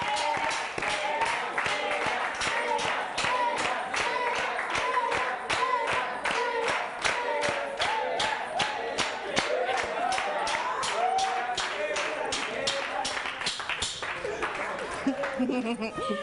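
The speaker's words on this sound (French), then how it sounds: "Applaudissements pendant qu'il vient." A crowd applauds continuously with dense, steady clapping that lasts throughout, fading slightly near the end.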